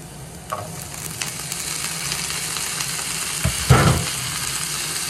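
String beans sizzle in a hot pan after salt goes in, a steady close frying hiss with a few sharper bursts of crackle, including a louder flare near the end.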